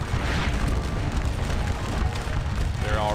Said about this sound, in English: Those cannon back there are going to be a problem.